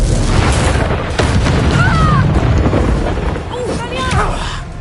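A fiery Confringo spell blast erupts in Hogwarts Legacy combat, a loud booming burst followed by crackling rumble, with other battle noises and shouted voices around it.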